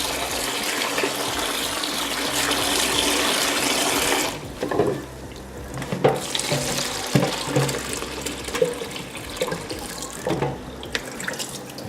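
Steady tap water gushes into a sink while beans are washed for Moi Moi, a loud continuous stream for about four seconds, then broken splashing and clunks as the beans are rinsed by hand.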